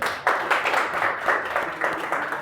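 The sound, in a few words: students clapping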